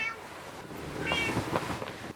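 A pet cat meows a couple of times indoors, short soft cries nearby against a breathy, rustling background.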